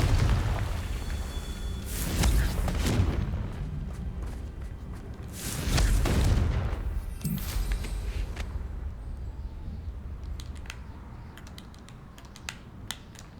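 The Confringo blasting spell going off in the video game Hogwarts Legacy: two heavy rumbling booms a few seconds apart, then fainter crackling and scattered small taps.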